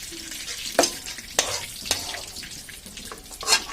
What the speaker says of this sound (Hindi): अभी मैं आलू को फ्राई करूँगी, इसको भी देख लेती हूँ अच्छे से क्या है।